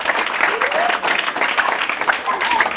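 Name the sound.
students applauding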